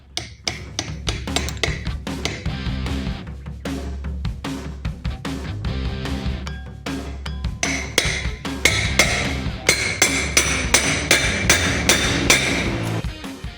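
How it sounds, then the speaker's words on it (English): Repeated metal hammer strikes knocking a universal joint cap out of a BMW X3 drive shaft, sharp ringing clanks in uneven bursts, faster and louder toward the end, close by with no talking. "Now we're hammering the universal joint in the opposite direction, pushing the other cap out of the way."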